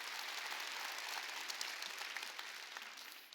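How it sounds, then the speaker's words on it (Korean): A church congregation at a Wednesday worship service applauds steadily for the full stretch, a dense, even wash of many hands clapping at moderate, somewhat distant level that eases slightly near the end. "하나님께 박수 치라요"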